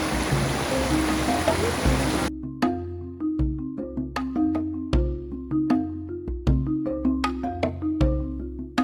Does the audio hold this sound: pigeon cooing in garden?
no